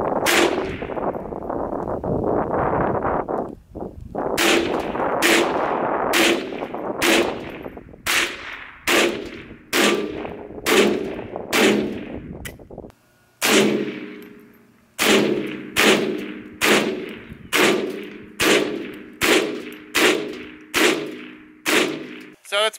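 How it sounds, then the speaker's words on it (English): .22lr rifle shots striking a truck door from about 20 feet away: after a stretch of rumbling noise, a steady series of around fourteen sharp, loud cracks ring out at roughly one-second intervals, each followed by a brief metallic ring. "we're only going to be shooting from about 20 feet away"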